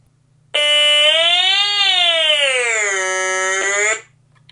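A real Stylophone holds a single buzzy electronic tone while its pitch knob is turned, the note sliding up, then down, then steady before cutting off, loud and alone over a faint hum.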